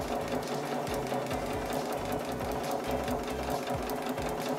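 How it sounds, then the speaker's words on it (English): A sewing machine stitches along a quilt line in a fast, steady mechanical chatter, close and loud throughout, with no one speaking. "Follow the line to the end, and then back stitch to lock it in there."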